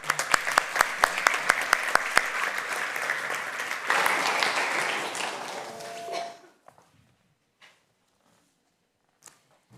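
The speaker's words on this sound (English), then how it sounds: "Give her a warm applause." Audience applause for a speaker at a global impact forum, a steady wash of many hands clapping with a few sharp individual claps up front, fading out after about six seconds into near silence.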